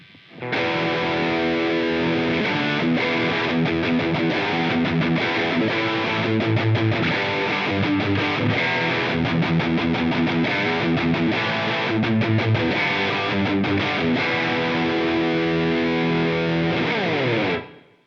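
A distorted electric guitar plays chords and riffs through a Line 6 POD Go amp modeler with a roomy reverb tail, loud and continuous with no talking.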